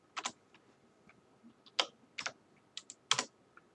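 Keys tapped on a computer keyboard while a command is entered on a network switch, giving sparse, close clicks in small irregular bursts with quiet gaps.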